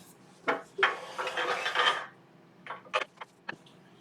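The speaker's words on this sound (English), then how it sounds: "So I might just take that last little bit with the scraper because it's ever so slight." A 1-inch shear scraper cutting a yew piece on a wood lathe, a rough scraping hiss lasting about a second, then several short sharp scrapes, close and clear with no speech.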